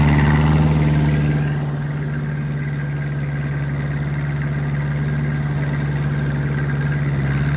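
A Ford 8N tractor engine idles and chugs steadily while yarding logs in the woods. The running is close and continuous, loudest at first and then settling to an even drone.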